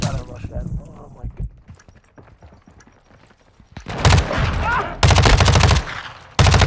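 Rapid automatic MP5 gunfire in the video game Modern Warfare 2, loud bursts in the second half following quieter muffled game sounds, with a voice speaking early on.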